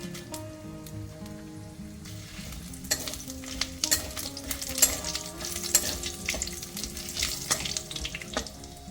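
Bay leaves, panch phoron and whole cumin sizzling in hot oil for a Bengali vegetable khichdi, a crackling fry with scattered sharp pops and spatters that grow busier midway, heard up close without any voices.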